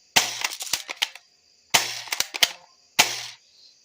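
Airsoft gun shots fired in three quick bursts of sharp cracking pops, close and loud, with short gaps between volleys.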